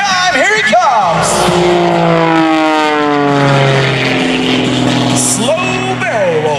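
Aerobatic propeller aircraft at the 2021 New York International Air Show making a low pass past show center, its loud engine drone rising and sweeping in pitch as it roars by close, under a public-address commentator.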